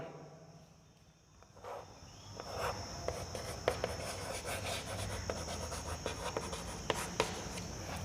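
A pen writing on paper at close range, soft continuous scratching with small taps as words are written out, over a faint steady background hum.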